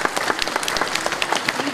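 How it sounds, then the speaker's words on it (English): Brief applause from the audience for teachers at a pre-K graduation ceremony, scattered clapping with crowd voices mixed in and talk over it. "And let's just give a hand to our teachers."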